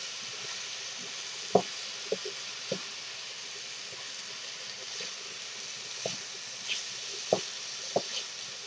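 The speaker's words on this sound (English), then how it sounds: "And now, stir to combine and fry." Cold fried rice fries and is stirred in oil in a pan, giving a steady hiss with scattered scraping and clinking knocks of the utensil, close and moderately loud.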